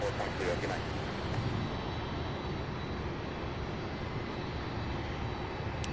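An airplane taking off at SDF airport at night, a steady broad roar of jet engines holding at moderate level throughout, heard from a distance with no break.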